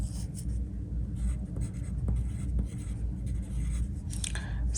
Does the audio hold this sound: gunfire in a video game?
no